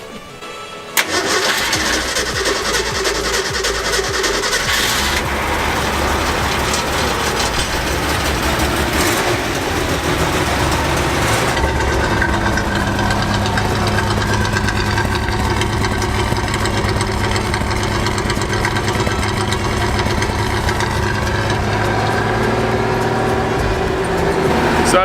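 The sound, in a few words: 1962 Mercury Comet car engine starting and idling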